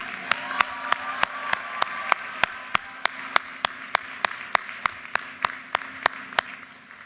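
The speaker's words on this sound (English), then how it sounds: "How about another round of applause for the families?" Commencement crowd at the University of Maryland clapping for the families in a slow, rhythmic unison beat, sharp evenly spaced claps about three per second over a low murmur.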